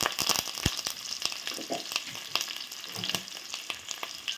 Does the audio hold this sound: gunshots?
no